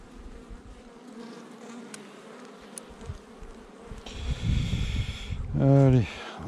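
Honeybees buzz steadily around hive frames and a nucleus box during spring colony work, a close, continuous drone with one brief louder buzz, alongside handling noises.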